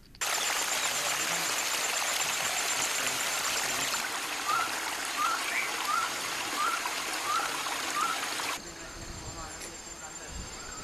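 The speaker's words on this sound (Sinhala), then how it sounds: "විවිධ ස්ථානවලින් ජලය ගලා යෑමද" Water flowing down a hillside at a landslide-risk site near Hatton sounds like a steady broadband rushing stream. A few faint chirps rise over it, and the level drops for the last couple of seconds.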